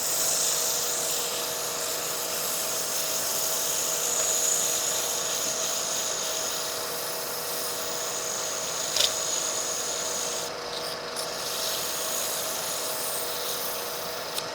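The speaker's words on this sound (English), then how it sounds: "Bit of sanding again." Continuous steady rasping hum of sandpaper against wood spinning on a lathe while turning a mushroom, with a constant motor drone underneath, unbroken throughout.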